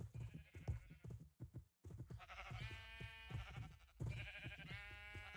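Sheep bleat repeatedly at close range, several wavering calls in quick succession with short pauses between them.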